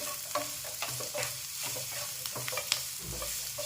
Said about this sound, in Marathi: थोडासा लालसर असा आपल्याला हा कांदा परतून घ्यायचा आहे.